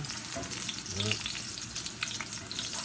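Latkes frying in hot oil in a pan, giving a steady close sizzle and crackle with brief louder spatters, no talking.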